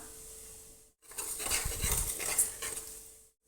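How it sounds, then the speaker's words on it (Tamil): A burst of hissing sizzle as ground spice powder drops into a hot pan for tempering while cooking tomato biryani, with a light metallic scrape of a utensil, a few seconds long. "நுணுக்கி வச்ச பொடியை போட்டுக்கலாம்."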